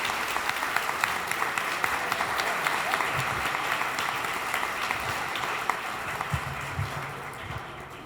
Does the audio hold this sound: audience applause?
yes